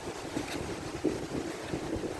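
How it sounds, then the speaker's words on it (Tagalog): Strong wind near the sea roars and buffets steadily, a rough, breathy rush with occasional louder gusts. "Lakas ng hangin o."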